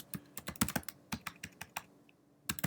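Quick bursts of keystrokes on a computer keyboard, uneven clicks in short flurries with a brief pause before a final cluster.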